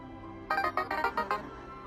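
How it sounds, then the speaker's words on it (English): A mobile phone rings with a quick burst of six bright, rapidly repeated electronic tones, loud and close over a soft game soundtrack hum. "As my phone goes nuts"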